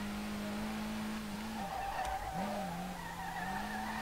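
A car drifts in the SLRR video game with a worn engine in third gear, a loud sustained tire squeal over a steady engine drone that dips briefly midway and then resumes.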